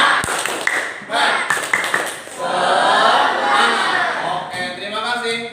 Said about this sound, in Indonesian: Makanya mari kita tepuk tangan dulu.